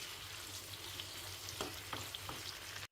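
Tomatoes, green chillies and coriander soften in oil for a tomato chutney, giving a quiet, steady frying hiss with a few faint stirring ticks before a sudden brief cutoff near the end.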